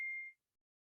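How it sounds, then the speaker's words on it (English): A phone notification gives a single short electronic beep. The tone is bright and steady and cuts off after about a third of a second, followed by silence. "someone is blowing up my phone and I apologize."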